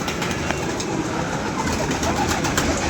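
Pigeons coo steadily against a dense wash of background noise, with no voices heard.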